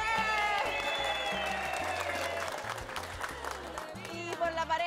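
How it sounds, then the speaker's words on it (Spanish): An audience at a community event applauds to vote for the first competing couple: sustained crowd clapping and some cheering over a thumping music beat, with voices mixed in. "Vamos entonces ahora por aplauso, decidir quién ganó."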